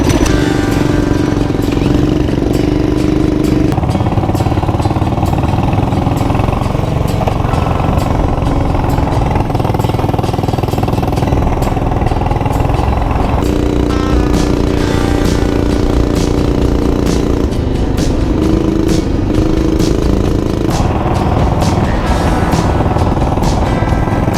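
A Coleman CT-200 mini bike engine runs steadily and loudly on a wilderness trail near Poage Lake, its pitch rising and falling as the throttle changes, close up with no clear talk.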